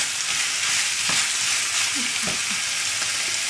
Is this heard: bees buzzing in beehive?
no